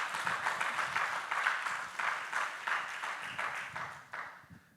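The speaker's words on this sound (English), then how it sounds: "why don't you give him a big round of applause for being here." Applause from a keynote audience at a conference, a dense broadband clapping wash that holds steady for several seconds and then tapers off at the end.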